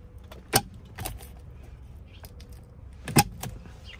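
A new M Sport steering wheel airbag on an F25 BMW X3 snaps into place, giving two sharp, close clicks a few seconds apart amid faint handling noise.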